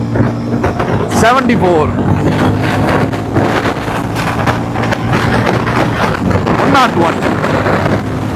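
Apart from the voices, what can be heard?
400cc cruiser motorcycle accelerating, exhaust sound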